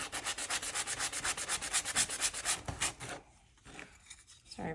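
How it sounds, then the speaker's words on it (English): Rhythmic strokes of hand sanding rasp back and forth across a wooden craft turkey cutout, close and steady for about three seconds before fading into quieter, scattered rubbing. "just do real quick sanding."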